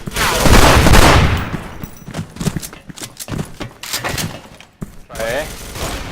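Shotgun fire in a video game comes as loud, rapid bursts of blasts and impacts, dense at the start and then scattered, with a player talking over the action.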